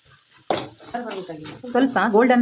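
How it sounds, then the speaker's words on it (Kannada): Onions, chillies and garlic fry in a pan for a fish curry, with close, loud scraping stirs and a steady sizzle building over a couple of seconds. "ಈರುಳ್ಳಿ ಮತ್ತು ಮೆಣಸೆಲ್ಲ ಚೆನ್ನಾಗಿ ಫ್ರೈ ಆಗಬೇಕು."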